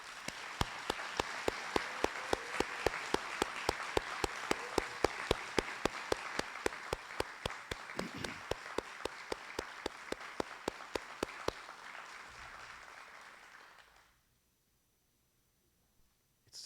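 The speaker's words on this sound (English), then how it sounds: "I'd like all of the recipients of awards tonight to please stand and be applauded for your excellent" A seated audience at an awards ceremony claps for the award recipients, a dense, steady round of applause that holds for about eleven seconds, thins out and stops, leaving near silence.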